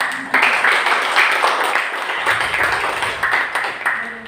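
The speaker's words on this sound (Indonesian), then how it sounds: "Tepuk tangan buat Tuhan." A congregation at a Sunday church service claps for God, a loud, close wash of many hands with rhythmic swells and some voices mixed in.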